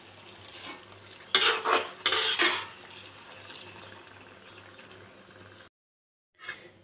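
A spoon or spatula stirs fish and wood potato curry in a pot just after water has been added. Two loud scraping, clattering bursts come close up, followed by a quieter simmering bed under a low hum, then a brief silence.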